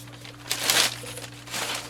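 Packing paper from a shipped package is crumpled and rustled by hand in a few crinkly bursts, close and moderately loud over a low steady hum.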